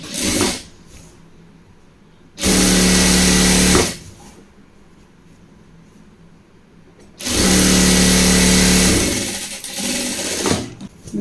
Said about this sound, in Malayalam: ഡബിൾ സ്റ്റിച്ച് കൊടുക്കുക. ഇതിൻ്റെ ഈ സൈഡും യോജിപ്പിച്ചെടുക്കുക.